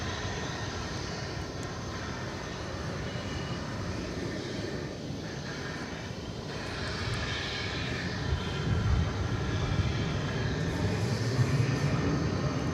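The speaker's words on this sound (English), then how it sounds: "So once again, this aircraft is off to Honolulu." An airliner rolls out from DFW Airport bound for Honolulu, a steady broad engine roar heard from a distance that slowly builds louder over several seconds with no talking.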